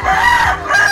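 A rooster crows loud and close in a single sustained call that fills the short moment, alone without talk.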